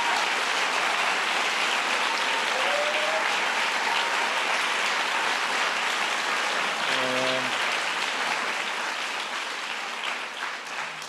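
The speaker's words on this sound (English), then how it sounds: "So I want to give all those educators, counselors, and community members a big round of applause" Sustained audience applause for educators, counselors and community members at a White House event, a dense, even wash of clapping from a large crowd lasting throughout, briefly joined by a faint tonal sound midway.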